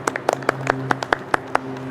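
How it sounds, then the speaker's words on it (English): Crisp, close audience clapping at an anniversary vigil in Seaside, California: a handful of distinct, evenly spaced claps ringing out over a low steady hum, fairly loud and without talk. "give yourselves an applause"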